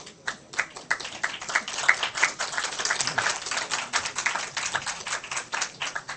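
Conference audience clapping for keynote speakers, a dense patter of many hands, moderately loud and continuous, without speech.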